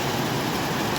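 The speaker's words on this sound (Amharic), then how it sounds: "ይሄን የመሰለ ዝናብ ዛሬ ወደ ስንተኛ ቀኑ እየረቀረቀ ነው ማለት ነው።" Steady rain falling in Dubai, a dense continuous patter on surfaces, close and even throughout the short stretch, with no voices.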